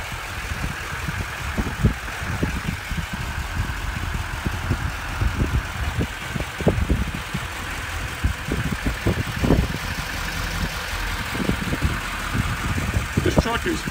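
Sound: 2014 Chevrolet Silverado 3500 HD engine running after remote start

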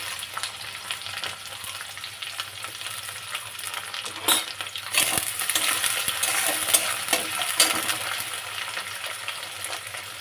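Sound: shrimp and onion frying and being stirred in a pan

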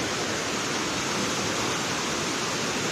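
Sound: water rushing over reservoir spillway cascades

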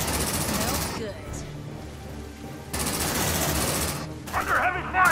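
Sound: gunfire in the video game Aliens: Dark Descent

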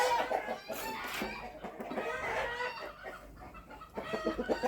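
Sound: hen clucking

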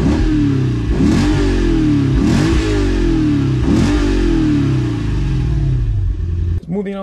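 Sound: 2008 Lexus IS-F engine revving through exhaust

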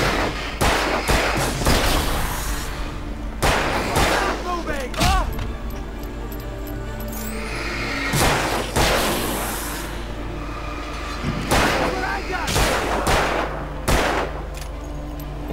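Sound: gunfire in the video game Alan Wake

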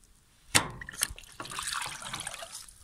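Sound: water pouring out of LG washing machine drain filter

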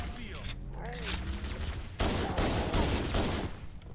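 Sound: gunfire in video game Halo CE

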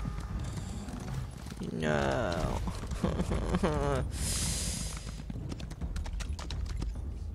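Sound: horse galloping in video game Elder Scrolls Online

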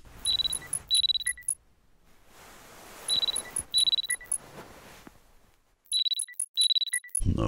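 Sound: alarm clock ringing in video game Parasocial

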